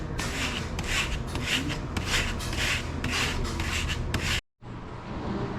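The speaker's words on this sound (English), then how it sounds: "I'm gonna deburr the thing because I don't want to scratch up the paint." Steady rasping strokes from deburring a part of a 60-year-old Lincoln tombstone welder during restoration, a close, loud back-and-forth filing rhythm that stops briefly near the end before resuming.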